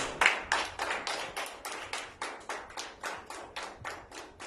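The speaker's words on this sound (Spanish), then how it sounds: "Dale un fuerte aplauso al Señor." Church congregation applauding together, about a dozen rhythmic in-time claps at a steady beat, moderately loud and close, with no talking.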